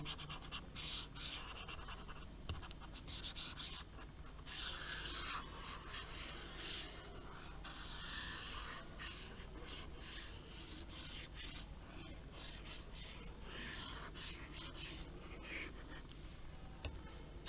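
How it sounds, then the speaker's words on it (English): A pencil drawing of a diagram being erased, steady close rubbing and scratching strokes on paper running continuously at a quiet level with no talk. "So let me erase this."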